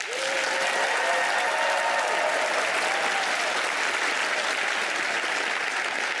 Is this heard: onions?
no